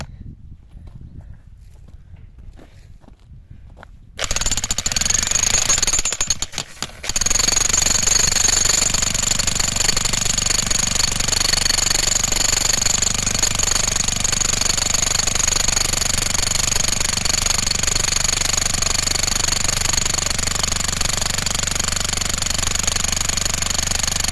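After a few quiet seconds, a rotary hammer kicks in, briefly pauses, then pounds continuously and loudly against garden rocks, close by, with a harsh rattling drone.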